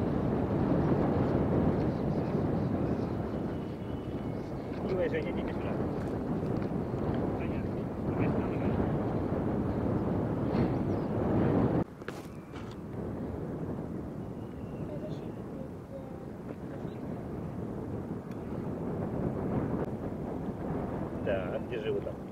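Strong wind buffets a microphone outdoors while a Rokkaku kite is readied for flight on a 200-metre line, a continuous low roaring rush with gusts, as adults and children talk throughout.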